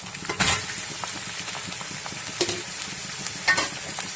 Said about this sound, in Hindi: अब इसमें मैं गोश्त शामिल कर देती हूँ।